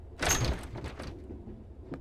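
Brief rattling bang of a locked door being tried in a horror video game aboard a train, a single loud burst followed by a quieter tail, with no talk.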